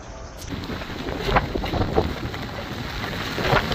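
Strong typhoon wind gusting outdoors on a street, a steady broadband roar with louder buffeting bursts against the microphone throughout, no voices.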